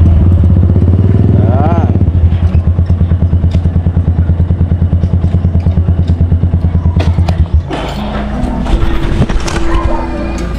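A motorcycle engine idles loudly and close with a rapid, steady thumping beat while being parked roadside, then cuts off near the end, leaving street noise and a brief spoken word.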